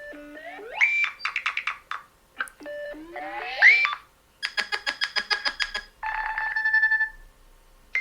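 A Nothing Phone (3a) Lite playing an electronic ringtone from its speaker: chirpy rising synth tones and fast repeating bleeps in several short bursts, clear and close in a quiet room.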